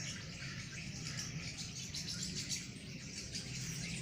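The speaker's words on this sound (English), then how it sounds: "You can hear the sound of the birds. These birds are Siberian birds" Flocks of migratory Siberian birds arriving in April keep up a continuous chorus of chirps and calls, many overlapping at a middle distance, over a steady insect-like buzz with no one talking.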